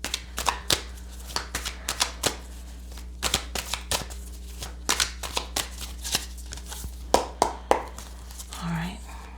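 Cards are shuffled and knocked in a series of crisp, rapid riffles and taps, close by. A soft voice murmurs briefly near the end.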